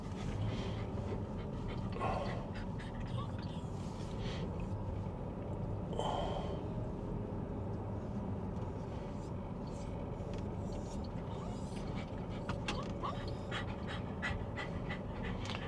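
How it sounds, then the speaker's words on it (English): Several dogs panting excitedly and steadily on a walk around the grounds of Lytham Hall, close by, with occasional snorts and soft whines and a faint background hum throughout. "You can hear them getting excited, look, dogs."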